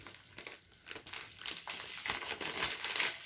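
Bubble wrap around a package of beads and jewelry-making supplies crinkles and rustles up close as it is handled and unwrapped, an irregular series of soft crackles that grows busier and louder.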